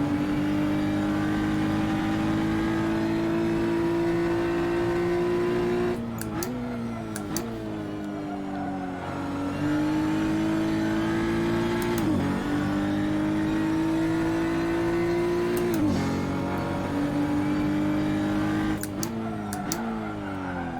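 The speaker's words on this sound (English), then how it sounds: "You don't want to step on the gas too early and drive the car wide and into the dirt." A race car engine in a racing game set at the Barbagallo circuit drones at steady throttle, then drops sharply on downshifts under braking about every three to four seconds before building back up, loud and continuous.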